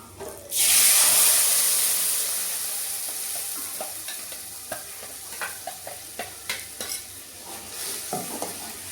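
Ground masala paste dropped into hot oil with onions bursts into a loud hissing sizzle that slowly fades, followed by a run of rhythmic spoon taps and scrapes as it is stirred.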